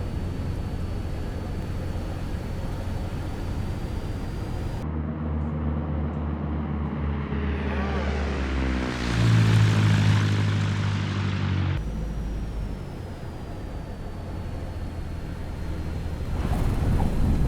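A Cessna 172 in Microsoft Flight Simulator 2024, fitted with an add-on sound pack, comes in to land. A loud, steady propeller engine drone fills the cabin, then shifts to a rougher, wavering tone midway before settling back. No one speaks.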